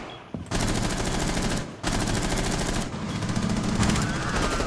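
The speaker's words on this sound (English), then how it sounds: "They're shooting this window." Automatic gunfire aimed at a window in Rainbow Six Siege, long loud bursts of rapid shots with brief gaps between them, heard close and without speech.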